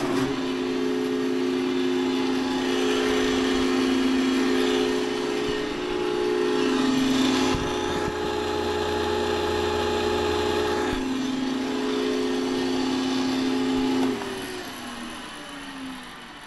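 A woodworking planer, fitted with a bigger swapped-in electric motor, runs with a steady close hum and whine that drops off as it winds down near the end.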